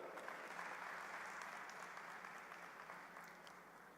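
A university Founder's Day ceremony audience gives steady applause, a continuous wash of many hands clapping heard from a distance and fairly faint.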